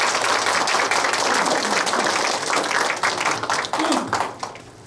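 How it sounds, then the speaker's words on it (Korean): Audience at a humanities lecture at a district cultural center applauds the arriving Buddhist monk lecturer, with dense sustained clapping that thins and fades toward the end as some voices emerge. "큰 박수로 모시겠습니다"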